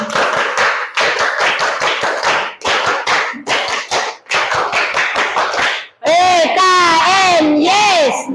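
A classroom group performs the Tepuk PKN chant, rapid rhythmic handclaps in tight bursts with short pauses, followed by a sung or chanted vocal phrase near the end.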